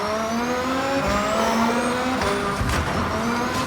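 A car drives through a city in a video game, its engine rising and falling in pitch with gear changes, loud and continuous, with faint tire squeal.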